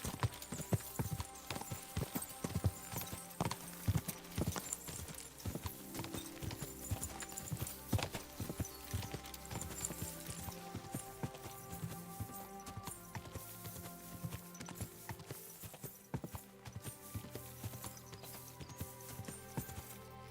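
Rhythmic clip-clop of horse hooves trotting steadily for the whole stretch in Kingdom Come: Deliverance II, mixed with faint background music and a soft whinny.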